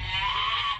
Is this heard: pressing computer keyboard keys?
no